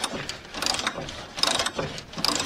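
A worn power steering pump on a 1998 Chevrolet Silverado makes a rhythmic mechanical ratcheting, a repeating whirring grind that pulses about once per second, close and moderately quiet with no talking.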